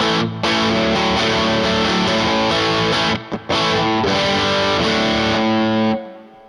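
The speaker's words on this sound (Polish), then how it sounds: "Jestem na takim lżejszym fuzie w tym momencie" Electric guitar through a light fuzz distortion, strummed chords ringing loud and continuous with a couple of brief stops, then fading out at the end, with no voices.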